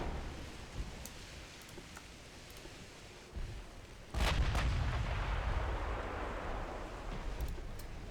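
4.5-inch naval guns fire in a 1930s British historical naval strategy game: a dull thump, then a much louder, rumbling artillery blast that lingers into a long, roaring wash of sound.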